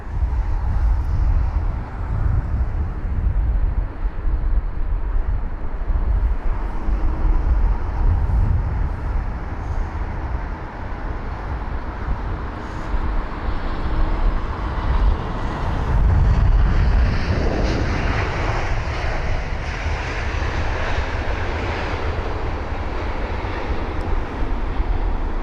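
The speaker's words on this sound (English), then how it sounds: "our next arrival, which is going to be a BA320-200 from Aberdeen" A British Airways Airbus A320-200 arriving from Aberdeen at London Heathrow, a loud, sustained jet engine roar with a rumbling low end that swells slightly in the middle and holds steady.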